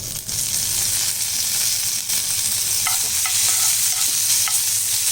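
Curry leaves and green chillies sautéing in a pan for a coconut-free watery chutney, a steady loud sizzle with a few light scrapes of a stirring spoon, no voices.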